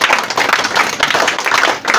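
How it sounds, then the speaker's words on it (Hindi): An audience claps for a student being honoured, a dense, steady wash of hand claps sustained throughout at close range with no talk over it. "और वापस आप तालियां बजाए सही बच्चे।"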